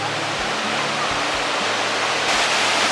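Loud rushing water, a powerful continuous roar close by, steady broadband noise filling the whole span with no breaks.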